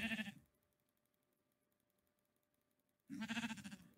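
A sheep bleats in a Minecraft-style video game, two short bright calls, one at the start and one near the end, separated by near silence.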